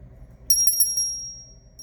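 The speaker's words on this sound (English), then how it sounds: "I'm going to ring some bells, clear the air" A small bell rings with a rapid cluster of bright metallic strikes, then a long clear ringing tone that fades slowly over a faint low hum.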